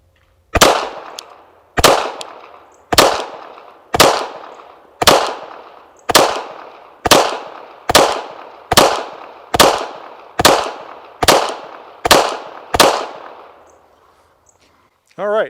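A Girsan MC14 BDA pistol fires 95 grain full metal jacket rounds, a steady string of about thirteen sharp, loud shots spaced roughly a second apart, each with a short ringing decay, with no talking.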